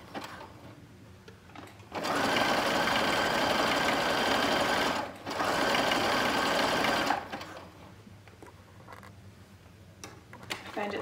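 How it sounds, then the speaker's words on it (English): A sewing machine runs a triple step zigzag top stitch on stretchy boxer brief fabric, in two steady loud bursts of rapid stitching with a brief pause between, then quiet handling afterward. "I'm using a triple step zigzag again. It's my favorite high stretch top stitching stitch."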